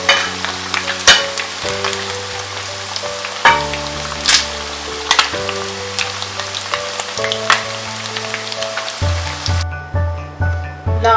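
Chicken pieces frying for a chicken roast, close crackling sizzle with intermittent stirring scrapes and pops, over background music, with no talking.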